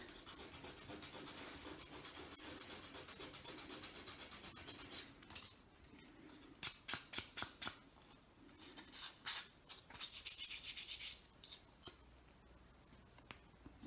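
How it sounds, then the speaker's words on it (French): A nail file rasps glitter off a craft piece, quiet scraping strokes, continuous at first, then short separate rubs in a loose rhythm, close and soft. "On va peut-être un tout petit peu prendre une lime à ongles."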